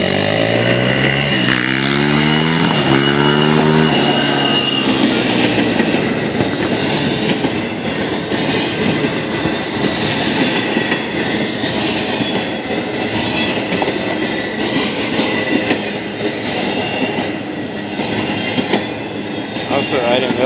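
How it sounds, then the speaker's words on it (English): Norfolk Southern intermodal freight train passing close by a station platform in Charlottesville, Virginia, a loud continuous rumble and rattle of cars with a sweeping pitch shift as it nears, steady throughout. "I almost missed an intermodal,"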